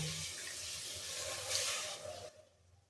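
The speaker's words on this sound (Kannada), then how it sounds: "1-2 ಲೋಟದಷ್ಟು ನೀರು ಹಾಕೋಣ" Water pours into a pan of bitter gourd curry, a rushing, splashing flow that swells briefly partway through and then cuts off, leaving a quieter tail.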